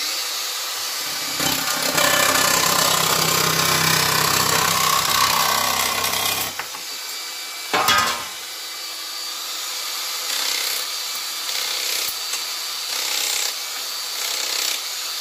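A Makita DJN161 cordless nibbler chews through aluminium sheet with a loud, steady, harsh buzzing that runs for several seconds. After a brief break comes a quieter, continuous mechanical hum.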